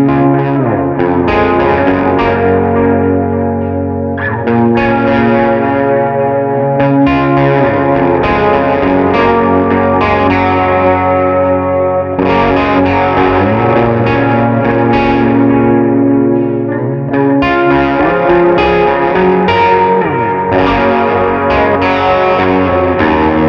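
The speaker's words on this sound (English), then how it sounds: "we're taking a look at four different great sounding affordable pedals from the brand Sonicake" Electric guitar runs through affordable Sonicake effects pedals, heavy distortion with chorus shimmer and echo, playing dense continuous riffs and chords at a loud, steady level with short breaks between phrases.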